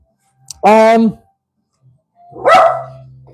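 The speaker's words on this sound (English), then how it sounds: "don't bark." A pet dog gives a single loud, sharp bark indoors during a live stream, then a second rougher bark follows a moment later.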